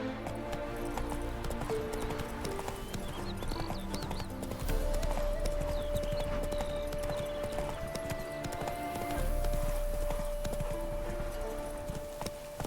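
Hooves of Roach, Geralt's horse in The Witcher 3, clop steadily in a continuous walking rhythm over game music and ambience, with no talk over them.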